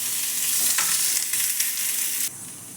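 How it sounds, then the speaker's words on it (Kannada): Onions fry in a spoonful of oil for a North Karnataka mutton saaru, giving a steady close hiss and sizzle with faint stirring scrapes that drop off near the end. "ಈರುಳ್ಳಿಗೆ 1 ಸ್ಪೂನಷ್ಟು ಎಣ್ಣೆ ಹಾಕ್ಕೊಂಡು ಹುರ್ಕೋಬೇಕು."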